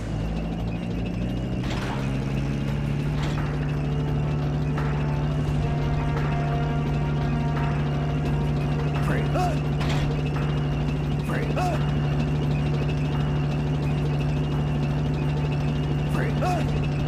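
A tank in Metal Gear Solid: Peace Walker starts to move, a steady mechanical engine drone that shifts pitch early on and keeps humming under faint clanks and scattered game effects.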